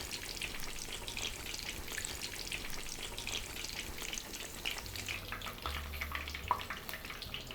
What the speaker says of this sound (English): 揚げていきます。